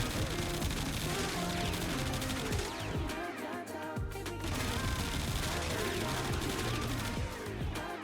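Boltor Incarnon gun in a video game firing in dense continuous bursts, loud rapid impacts and clatter filling the whole stretch with only a brief lull midway.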